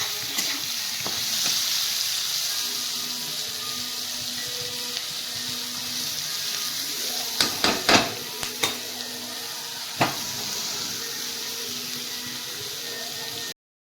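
Onions browning in a pan at home, giving a dense steady sizzle with a few sharp clinks and scrapes of a spoon stirring partway through, close and continuous throughout.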